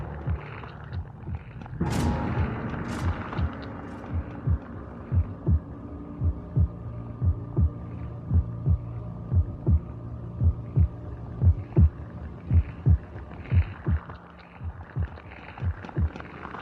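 A slow, steady heartbeat thumps from inside a Xenomorph statue in the game Aliens versus Predator, regular low pulses over a droning hum, with a brief louder swell near the start.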